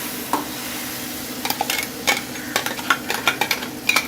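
Mango paste for halwa stirred into ghee in a pan, with irregular scraping strokes and light metallic clinks of a spoon over a faint sizzle, close and moderately loud.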